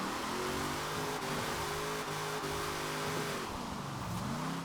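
The Hot Wheels Bone Shaker's engine revs in Forza Horizon 4, a fairly quiet, continuous drone whose pitch climbs and dips through the long gear ratios, with no talking.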